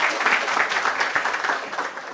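An audience gives a short burst of applause, a dense patter of clapping hands that stays fairly even for about two seconds with no speech over it.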